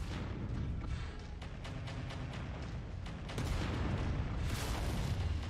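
Ultra autocannons in MechWarrior 5 pound out rapid heavy booming shots, loud and dense, in a continuous rumbling barrage layered with explosions and mech machinery noise.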